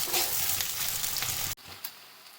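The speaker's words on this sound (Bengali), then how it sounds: "তেল হিট হয়ে গেছে, তো তেলের মধ্যে আমি পেঁয়াজগুলো দিয়ে দিলাম।" Onions frying in hot oil, a dense close sizzle with stirring that suddenly drops away, then a quieter hiss with a small clatter.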